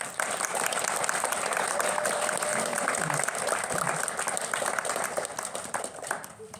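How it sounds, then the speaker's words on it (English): Sustained audience applause for a poetry reader at a youth literary arts event, steady dense clapping from a crowd that fills the room throughout, with a faint voice briefly under it. "one more big round of applause for the reader."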